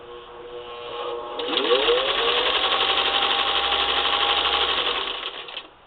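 Sewing machine driven through a foot pedal with a new cord set and motor controller, whirring close and steady with fabric under the needle, rising in pitch as it speeds up and running continuously for several seconds.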